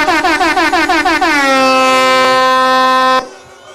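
Loud truck air horns sound a rapid series of short toots that merge into a long, steady blast lasting a couple of seconds before stopping abruptly, alone without speech.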